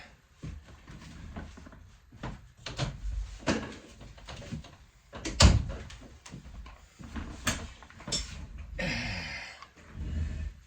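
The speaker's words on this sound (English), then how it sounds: "I gotta open the door." A door is handled and opened close by. Knocks, a latch clunk and a scraping swing are heard, along with light breathing and shuffling.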